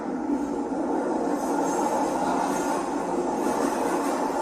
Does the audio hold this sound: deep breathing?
no